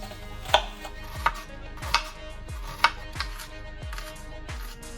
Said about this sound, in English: we wanna finely chop these onions